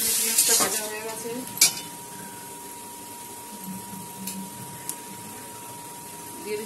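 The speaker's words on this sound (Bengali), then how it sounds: "পেঁয়াজটা ভাজা হয়ে গেছে" Onions fry in oil in a pan for a chicken curry, a faint, steady sizzle with a few scraping stirs and metallic knocks of a spoon, close and without speech.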